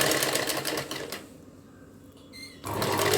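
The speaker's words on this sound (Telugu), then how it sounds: "అదే స్టిచ్ మీద మనం ఇంకొక స్టిచ్ అన్నది వేసేసుకోవాలి" A sewing machine runs in two steady bursts while stitching invisible cord piping along a blouse neckline, with a brief quiet pause between the bursts. The stitching is close and fairly loud.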